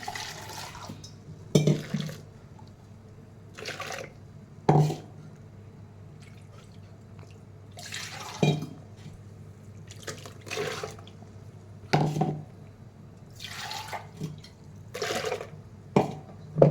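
Water splashes and drips in short bursts as a grinder jar is rinsed out after grinding a paste, with quiet gaps between the pours.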